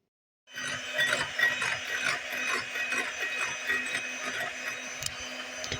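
An electric beater machine whirs steadily while whipping egg whites for a plain cake, a close, continuous mechanical buzz that starts abruptly after a brief silence.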